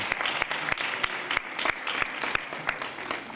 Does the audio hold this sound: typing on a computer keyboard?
no